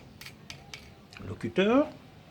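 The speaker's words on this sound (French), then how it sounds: "La paire de ciseaux." A few soft metallic clicks and snips of scissors being handled, faint and close, followed by a brief spoken word at the end.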